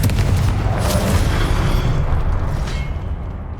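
A Confringo fire-blast spell in Hogwarts Legacy erupts as one loud, sustained booming explosion with a dense low rumble that fades slowly over a few seconds.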